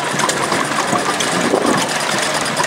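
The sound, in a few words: tractor engines idling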